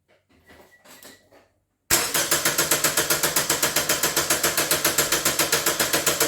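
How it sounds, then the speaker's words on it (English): A 2005 Toyota Corolla 1.8 engine cranks over without starting, the starter churning in a fast, even rhythmic chug that begins abruptly after a few quiet clicks and continues loudly and steadily. "now I'm going to crank the engine over for maybe 10 seconds at a time"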